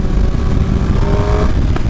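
Motorcycle fitted with a link pipe and its original exhaust tip, giving a steady, loud, close exhaust rumble that holds evenly throughout with no talk.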